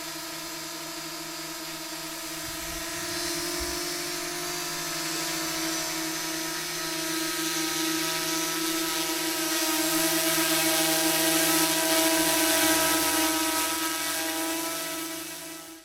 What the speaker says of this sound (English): gonna take up the drone again, see if I can improve on my skills